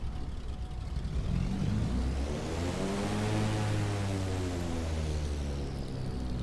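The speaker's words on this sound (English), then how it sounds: "The turbo whistle, I love it." A Cessna 414AW Chancellor engine runs in a flight simulator, a loud sustained drone with a rising and falling whistling whine layered over it.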